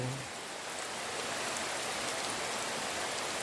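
Rain falling in a forest, a soft, continuous hiss of drops on leaves and ground, steady and even from start to finish with no voices.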